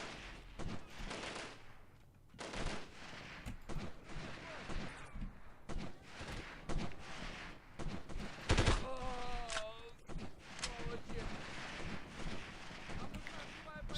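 Rapid, overlapping gunfire from many snipers in the 1998 video game Delta Force, a dense, continuous barrage of sharp cracks with brief game voices and a tonal sweep partway through.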